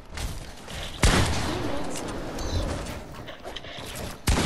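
A pump shotgun firing in a video game, two loud sharp blasts a few seconds apart over a dense background of game noise and talk.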